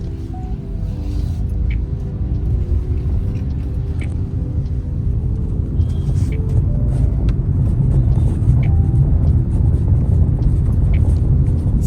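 Steady engine rumble and road noise come from inside an automatic car as it drives slowly, with a low, even drone that grows slightly louder over time and no talking.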